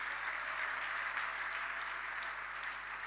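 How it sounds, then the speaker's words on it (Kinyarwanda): Church congregation applauding, a steady, even wash of clapping heard at moderate distance with a faint low hum beneath. "Reka dukomere Imana amashyi bene data."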